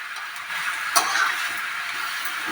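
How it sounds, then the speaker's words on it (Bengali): Mashed banana frying in ghee as it is stirred, a constant close sizzle with one sharp utensil click against the pan near the start, then continued soft frying hiss. "এইভাবে নাড়াতে থাকবে, এইভাবে বন্ধুরা নাড়াতে থাকবে"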